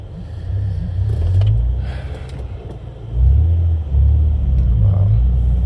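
Lexus IS250 on upgraded motor mounts reversing and pulling away, a low engine rumble heard from inside the cabin that swells as it moves off, steady and moderately loud with no speech.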